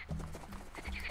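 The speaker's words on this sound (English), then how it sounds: "Oh, it's frogs." Frogs croaking in a video game, a few short low croaks repeating in quick rhythm, close and fairly faint, with no talking.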